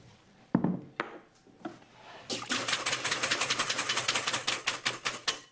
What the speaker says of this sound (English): while I whip some cream